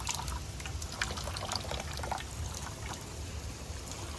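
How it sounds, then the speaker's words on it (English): Water from a building-envelope spray test rack running down and draining into a bucket, a steady, dense splashing trickle that stays at an even moderate level throughout. "Water fills up in the squares, and then you can see it comes down"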